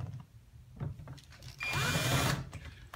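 Cordless power drill driving a fastener on a Dodge Dakota window regulator, short bursts then a sustained whirring run as the low-torque clutch slips and ratchets, close and loud.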